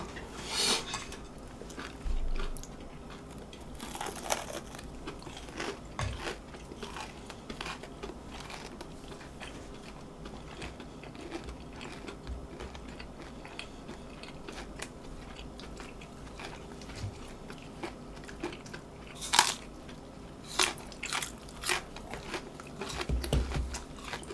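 People bite into and chew crunchy fried chicken at a table, giving soft, scattered crunches and chewing noises over a long stretch, close but faint, with occasional sharper bites and no talk.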